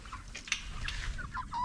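Farm chickens, a 4-H project flock, cluck and chatter softly while being fed grasshoppers outdoors, with short calls scattered over a low background rumble and no talking.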